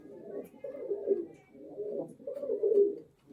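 Giribaj pigeons, a pair of green birds with yellow eyes, coo in low rolling bursts, three swelling phrases close by and clearly audible with no voices.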